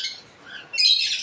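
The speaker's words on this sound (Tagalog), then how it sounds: "Grabe yung mga ibon dito." Birds in an aviary give harsh, close squawks, with a loud burst of shrill calling in the latter half.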